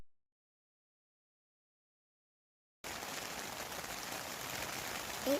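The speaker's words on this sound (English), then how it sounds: "It's raining." Rain falls steadily outdoors on a day of bike commuting, a dense, even hiss that starts abruptly after a stretch of silence and stays moderately loud to the end, with no voices.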